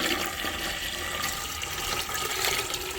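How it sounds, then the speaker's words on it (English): Creek water pours steadily into a toilet tank, a continuous close splashing rush that runs unbroken throughout with no talking. "I just fill it up with the creek water like so, and I just pour it in."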